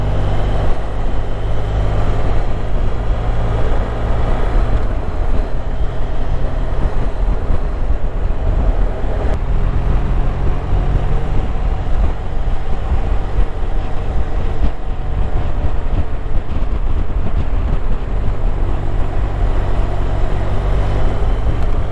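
Motorcycle on a rural road with a 40 limit during advanced rider training, the engine droning steadily and loud throughout with wind rush, gradually building as the throttle is eased on; no talk.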